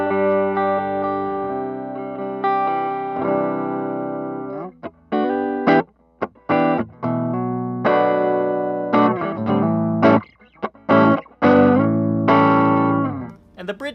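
A 1984 Gibson Les Paul Custom is played clean through its neck pickup. Warm, full sustained chords ring out first, followed by a run of short, choppy strummed stabs separated by brief silences, with no voice heard.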